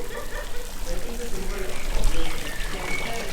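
The Schängel fountain in Koblenz spits water in a steady, splashing pour under a busy mix of nearby voices and outdoor background noise.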